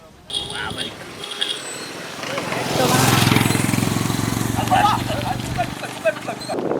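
A motorcycle engine chugs and rises as it draws nearer along a village road, with a rough, rattling rhythm. Voices talk over it throughout.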